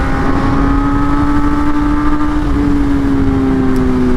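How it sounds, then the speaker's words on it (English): A BMW M1000R motorcycle is ridden at a steady cruise, its engine giving a loud, continuous drone with a smooth tone that rises gradually, mixed with heavy wind rush and no talk. "I'm out here on this M1000R"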